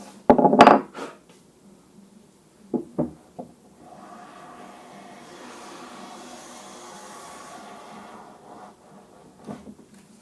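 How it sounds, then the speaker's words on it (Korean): A refurbished junk hand plane set up as a smoothing plane shaves a wooden board in a test pass, with a few sharp knocks of handling, then a steady soft hissing stroke and a closing tap. "시험 대패를 합니다"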